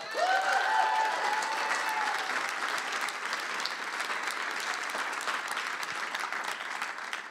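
Sustained applause from an audience at a political event at The Arena in Detroit, steady clapping throughout with no voices over it.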